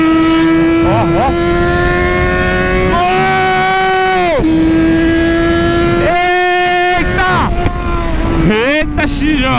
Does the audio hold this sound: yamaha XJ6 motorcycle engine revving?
yes